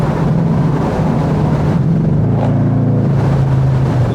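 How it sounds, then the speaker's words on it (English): Lexus SC 430 driving through a tunnel, its engine a loud sustained drone with a rising note midway, wrapped in heavy wind and road roar. "the car sounds absolutely amazing"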